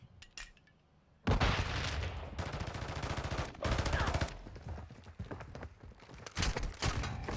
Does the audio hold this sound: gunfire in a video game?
yes